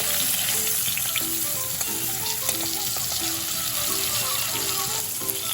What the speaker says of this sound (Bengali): এখন এই মাছগুলো আমি তুলে নেব, নিয়ে বাকি 3টে মাছও এইভাবেই ভেজে নেব।